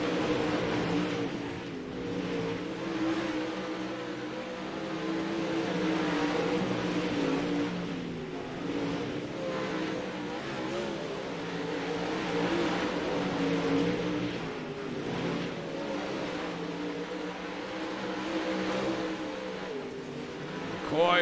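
Late model race cars roar around a dirt oval during a feature race at Limaland, a steady loud engine drone that rises and falls as the pack circles, under continuous announcer commentary.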